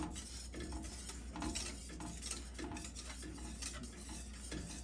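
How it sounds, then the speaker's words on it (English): Sauce being stirred in a hot pan, with continuous close scraping strokes of a utensil over a faint simmer, heard alone without talking. "So you want to keep stirring. Don't stop."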